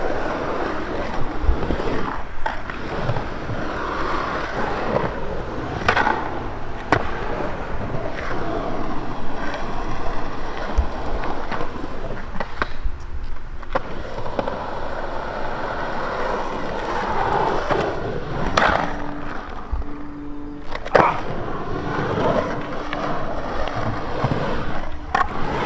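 A skateboard rolling on Powell Dragon wheels produces a continuous rough roar with sharp clacks and impacts scattered throughout, close and fairly loud, with wind noise mixed in.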